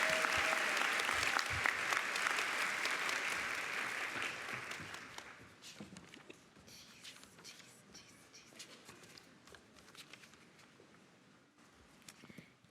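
Audience applause at a university graduation celebration, loud and dense for about five seconds, then thinning into scattered claps and faint crowd noise.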